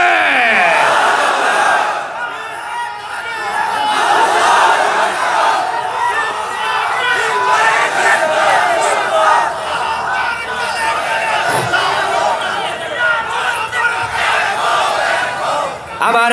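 A large crowd at an outdoor religious tafsir gathering in Narsingdi roars its response to a preacher's takbir call, loud sustained massed shouting and cheering that rises and falls in waves throughout.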